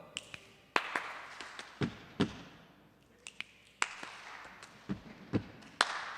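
A group claps sharp, scattered hand claps during a rhythm warm-up at a church worship service. The claps come as separate loud smacks at uneven intervals, with no talk over them.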